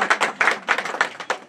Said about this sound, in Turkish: Onları da benim kadar değilse de küçük küçük alkışlayın inşallah